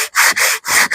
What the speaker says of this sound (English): I got 220 grit sandpaper that I go to then, and then go with the grain